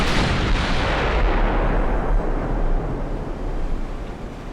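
Naval artillery from the Ultimate Admiral: Dreadnoughts warship game, a loud, sustained roar of heavy gunfire that rumbles continuously and fades slightly toward the end, with no talking.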